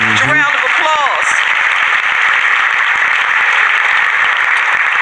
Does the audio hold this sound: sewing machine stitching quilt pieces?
no